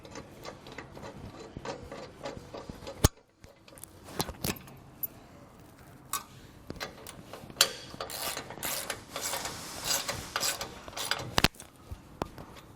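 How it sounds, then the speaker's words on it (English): Anti-rattle bolt being tightened into a bike rack's replacement receiver insert in a trailer hitch, a run of quiet metallic clicks and ratcheting scrapes with a few sharper knocks, close and moderately faint, no talking. "Come in and add our anti-rattle bolt."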